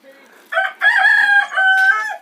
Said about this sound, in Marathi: अरे लईच मोठ्याने ओरडतोय कोंबडा तुमचा